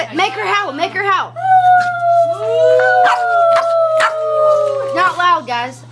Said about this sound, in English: Make her howl. Make her howl.